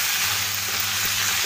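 Chickpeas, green peas and black-eyed peas frying steadily in a pan, a dense continuous sizzle with occasional soft stirring scrapes, close and alone without voices.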